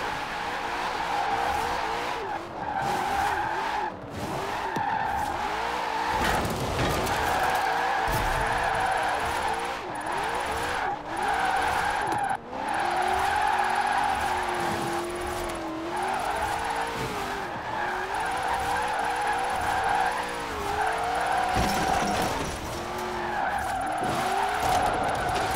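A Mustang drifts in Forza Horizon 4, its tyres screeching continuously under a loud, revving engine whose pitch rises and falls throughout, with brief dips between slides.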